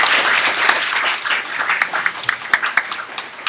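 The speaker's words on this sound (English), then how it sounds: "can we all give Kyle a round of applause?" Audience at a talk by Kyle Webster giving a round of applause, starting as dense massed clapping and thinning into scattered individual claps near the end.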